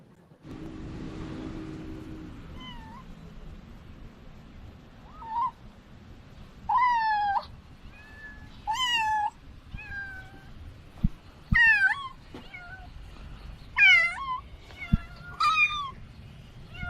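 Several kittens meow in high, wavering cries, one after another with short gaps, close by, over a low background rumble and a few soft thumps.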